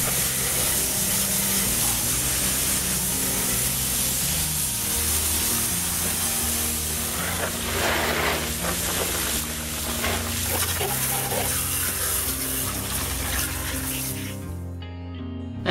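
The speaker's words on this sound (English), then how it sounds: "sprayed away with the garden hose" A garden hose sprays water over a Jeep body in the backyard, making a loud, continuous, close hiss that holds steady throughout before cutting off at the very end.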